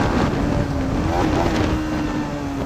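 A KTM Duke and a Yamaha MT15 ride together, with a loud steady engine drone and a slowly wavering pitch under heavy wind rush, heard close from a moving bike.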